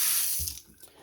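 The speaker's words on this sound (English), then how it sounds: "this is how the water is supposed to come out" Water gushes steadily from a tap in a broad, hissing rush, with a faint low gurgle near the start, cold water running.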